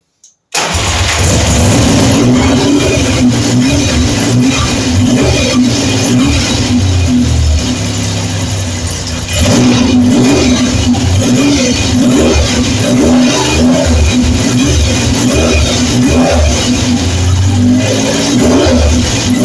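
A 1975 Triumph Trident T160 motorcycle with a smoking engine cranks and catches, then runs loud and close with a rough, throbbing idle and a few blips of the throttle, almost without a break.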